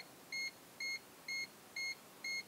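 A multimeter gives five short, high electronic beeps at an even, quick rhythm over a quiet background hiss.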